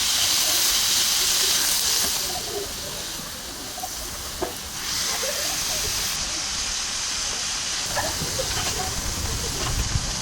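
Smash burger patty sizzling on a Blackstone griddle: a loud, steady broadband hiss that continues throughout with small scraping and crackling accents, close and dominant.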